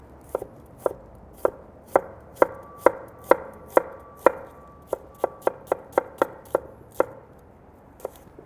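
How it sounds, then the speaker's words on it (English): A knife thinly slicing a shallot on a cutting board, about twenty crisp, evenly spaced chops close up, speeding slightly toward the middle before slowing at the end, with no voices. "We're just gonna slice this pretty thin."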